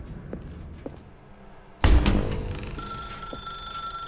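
An in-game telephone in The Stanley Parable: Ultra Deluxe bursts into ringing after a quiet stretch of faint clicks, loud and close, the ring tone holding steady to the end with no voices.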